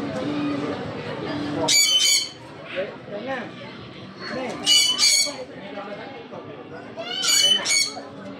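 A small bird gives loud, sharp calls in three repeated bursts, close by, with people talking and background noise between them.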